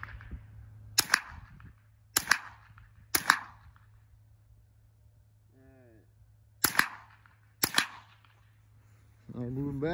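Five sharp, loud gunshots in a shooting challenge, spaced a second or more apart in two clusters, close and cracking, with brief voices between shots and at the end.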